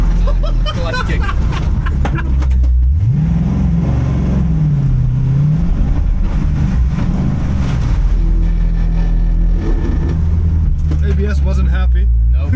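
Corvette C6 Z06 engine at the Nürburgring, clutch kicked so the revs flare up, fall and climb again in a wavering roar under loud cabin noise, with voices talking over it.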